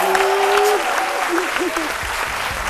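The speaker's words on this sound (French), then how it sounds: "On applaudit très fort pour notre" A TV studio audience claps loudly for a guest arriving on a lunchtime show set, dense applause throughout while a host's voice and melodic tones rise over it.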